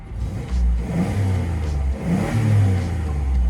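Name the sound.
family van engine revving while accelerating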